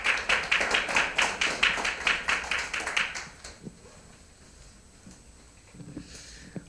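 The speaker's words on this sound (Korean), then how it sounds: "우리 이원영 목사님, 우리 박수로 환영하겠습니다" An audience at a church climate seminar gives a speaker a welcoming round of applause, a dense burst of rhythmic clapping lasting about three seconds before stopping abruptly and leaving quiet room noise with a few small knocks.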